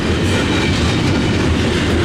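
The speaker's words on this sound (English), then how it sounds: "This train's good. That's a good train to start out today." A CSX heritage freight train rolls past close by, a loud steady roar of wheels and rail clatter with rhythmic clickety-clack filling the whole stretch, no voices.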